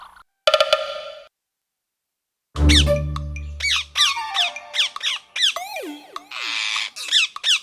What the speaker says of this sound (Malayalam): ചെമ്പന്റെ സഹായത്താൽ രക്ഷപ്പെട്ട തത്തകൾ ചെമ്പന്റെയും അമ്പുവിന്റെയും പിന്നാലെ